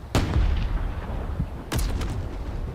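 Artillery fire in Space Engineers booms in two loud, sharp reports, one near the start and another just past the midpoint, over a continuous low rumble of battle.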